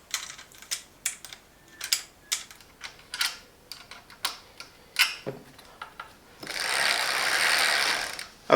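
A ratchet clicks in short, uneven bursts nearby while screws are tightened on a DYU C3 bike during a tyre change, followed by a couple of seconds of steady whirring hiss.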